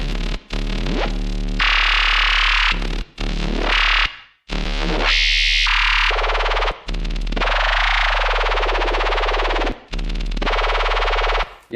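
Dubstep laser screech bass synth patch, a loud distorted sustained tone played in repeated phrases with pitch sweeps and brief gaps between notes, no voices.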